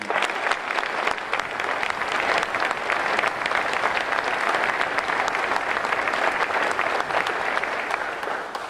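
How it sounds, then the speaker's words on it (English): Sustained audience applause at a university ceremony naming UC's 30th president, a dense, steady roar of many hands clapping that holds at even strength for several seconds. "So everybody please give her a round of applause."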